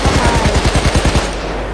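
Rapid automatic gunfire in the video game PAYDAY 2, a loud close burst of about a dozen evenly spaced shots that stops abruptly, leaving a ringing tail.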